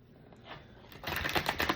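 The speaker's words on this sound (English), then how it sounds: "Actually shuffle these." A deck of oracle cards is shuffled up close, with soft handling at first and then a quick burst of rapid riffling clicks.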